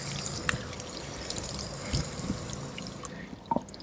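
Water is poured over a car, splashing and trickling onto its hard surface, quiet and close, with a few louder drips and splashes.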